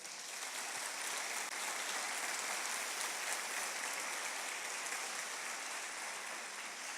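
Congregation at a church service applauding, a steady dense wash of clapping heard from a distance, faint and even throughout with no voices over it.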